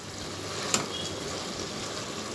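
Water lily stems frying gently in a pan, a soft steady sizzle and hiss of moisture cooking off, with one brief faint click partway through.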